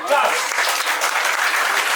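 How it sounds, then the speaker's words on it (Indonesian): Applause from a crowd at a one-day English and character camp at a villa in Bekasi, a dense steady patter of clapping that runs throughout, with voices mixed in. "Tepuk tangan buat dia."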